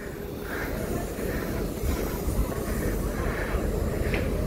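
CT273 steam locomotive and R167 diesel-electric unit haul a Juguang special train at Yuli station in Hualien, Taiwan, a steady, loud rolling rumble with rhythmic wheel clatter close by.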